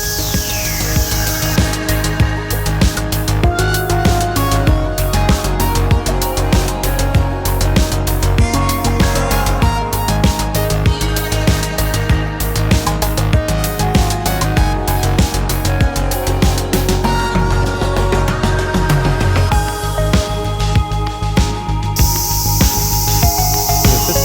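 Cicadas shrill loudly and continuously on a hot summer day in Japan, a dense buzzing chorus that pulses and fills the whole stretch, close and alone.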